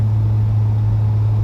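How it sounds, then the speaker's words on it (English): A 1984 Ford F-250 pickup truck driving on the road after a wheel realignment, a loud steady low engine drone with constant road rumble and no variation. "I'm heading up to the campus, and this truck's riding a lot better than it did before"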